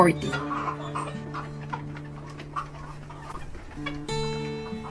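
Dekalb White chickens cluck in a busy cage-free poultry house while a person talks over them, with steady humming and clatter in the background.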